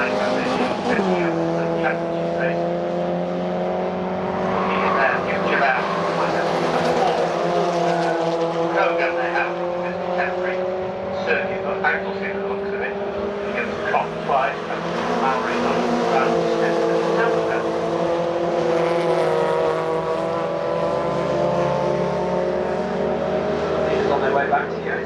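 MG race cars at the Oulton Park Island circuit during an MGOC championship race pass trackside, with loud sustained engine roar rising and falling as cars go by, overlapping continuously and heard close up.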